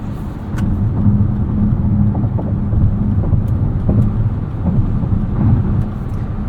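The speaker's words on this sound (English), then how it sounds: "There's a little bit of tire howl at speed, but very little wind noise." A steady low rumble of tires on pavement fills the cabin of a 2023 Lexus RZ 450e electric car at speed, constant and muffled with a faint tire howl and little wind noise.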